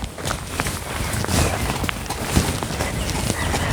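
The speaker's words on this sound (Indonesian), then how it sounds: "Ada yang naik kuda." A ridden horse walking along a road, with a steady clip-clop of hooves at middle distance over a constant, noisy outdoor background.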